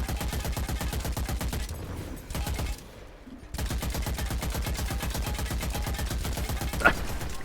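Rapid automatic gunfire from the dark fantasy shooter Witchfire, a steady stream of loud close shots with one brief pause mid-burst, then firing resumes without letup.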